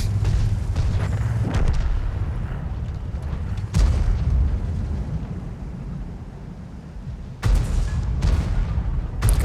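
Heavy tank guns boom in World of Tanks, with the T30 in the fight. Several loud, sharp blasts land at irregular intervals over a rumbling low battle background, and each blast fades into a long decaying tail.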